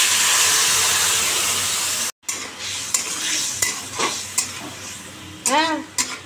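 Potatoes and spices hit hot oil in a pan with black cumin, a loud steady sizzle, then fainter crackling after a brief break, with utensil scrapes and a few sharp clinks near the end.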